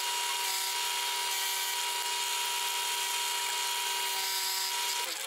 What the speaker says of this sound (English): Put my eye socket Forstner bit in there. I'm gonna just basically start drilling until I feel like I'm deep enough